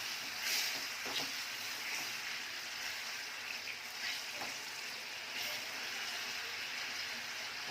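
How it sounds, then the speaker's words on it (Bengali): Prawns and fish being sautéed in a pan, a steady soft sizzle and frying hiss with occasional faint stirring clinks, fairly quiet and free of talk. "মাছটা একটু কষাই নেবো সুন্দর করে"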